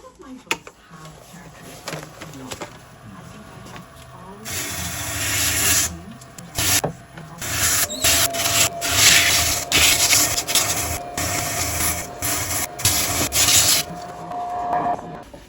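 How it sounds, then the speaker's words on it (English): Wire wheel scrubbing a wormy, punky burl wood dish, a harsh rasping hiss in bursts over several seconds, with a motor whine and brief pauses between passes. "Now it's time to clean it up on the wire wheel."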